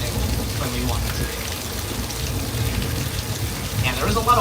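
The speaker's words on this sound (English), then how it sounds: "we make sure to have extra large raindrops to make it very clear that it's raining when we want it to be" Artificial rain with extra large drops falls on a backlot set at Universal Studios Hollywood, a loud, steady wash of splashing water close by with people talking over it.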